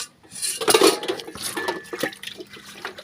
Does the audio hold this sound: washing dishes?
yes